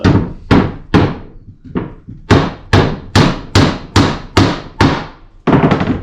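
A hammer drives a finishing nail into a tissue box in a run of about eleven sharp, evenly spaced knocks, each loud and close with a quick decay, and no voices.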